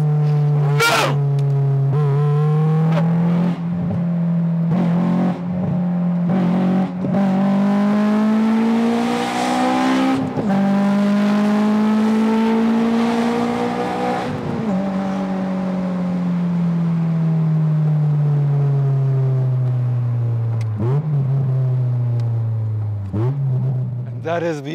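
Honda S2000 sports car engine revving hard toward high rpm, its droning pitch climbing and falling through gear shifts with sharp pops and crackles between shifts, loud and close, with a voice speaking over it.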